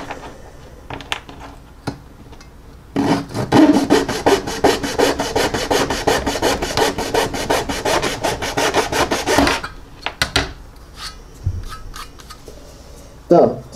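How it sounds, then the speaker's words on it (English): A hand saw cuts through a resin seat part for a 1/48 Tamiya F-14A scale model, making a steady, close, rasping back-and-forth stroke for several seconds, framed by softer handling clicks before and after. "So see how easy that with the saw? Just cuts right through it."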